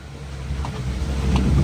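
Gusty wind rushing over a wet hillside as a truck climbs in rough weather, a steady low roar with a strong wind-noise rumble on the microphone that swells slightly toward the end.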